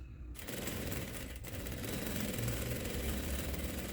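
An industrial sewing machine runs steadily, stitching fabric in a continuous mechanical whir that holds near and even for several seconds after a brief quiet start, with a short dip midway.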